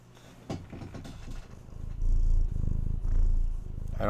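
A cat purrs steadily in low, rumbling pulses close by, with a sharp knock early on and light handling noises.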